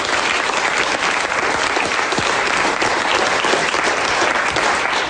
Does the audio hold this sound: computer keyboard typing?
no